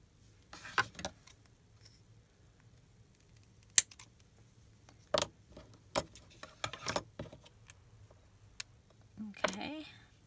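Paper being handled and folded in half for a junk-journal matchbook magnet, with scattered crisp creasing clicks and rustles, close and fairly quiet against a mostly silent room.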